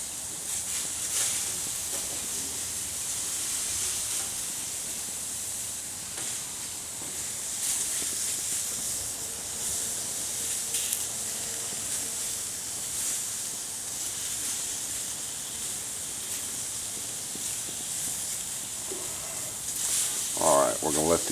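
Onions for beef fajitas sizzle in a hot pan, a soft steady hiss running throughout with a brief louder burst near the end, while a person talks over it.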